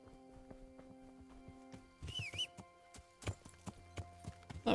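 Horse hooves clip-clop in the video game Kingdom Come Deliverance, a steady patter of soft steps that grows louder and sharper, mixed with a brief whinny-like cry and game ambience.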